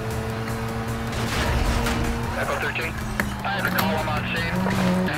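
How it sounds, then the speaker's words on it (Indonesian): Mazda MX-5 roadster fitted with an RX-8 rotary engine in Need for Speed Most Wanted: a steady, droning engine note with shifting pitch runs throughout while someone talks over it. "Ini suaranya ya pokoknya mesin rotary lah"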